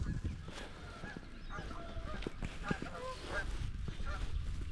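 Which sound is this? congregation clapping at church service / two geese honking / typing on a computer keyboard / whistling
two geese honking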